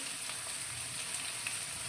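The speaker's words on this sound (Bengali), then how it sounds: "একটু ভালো করে একটু ভাজাটা করব আলুটা" Potatoes and onion fry in a pan, giving a steady, quiet sizzling hiss with faint crackles throughout and no voices.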